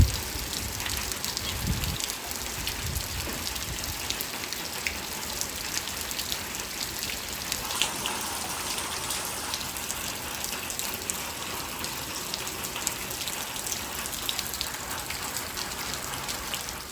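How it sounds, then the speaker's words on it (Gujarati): Heavy rain with strong wind pours down in a dense, steady hiss and patter that stays loud and even throughout, with no voices. "તો જો ભારે પવન સાથે વરસાદ પાછો યા"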